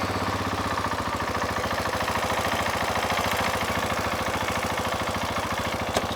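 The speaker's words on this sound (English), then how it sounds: "So once you start the bike," A Husqvarna 701 Enduro motorcycle engine idles steadily nearby with an even, rapid thumping pulse that holds a constant rhythm throughout.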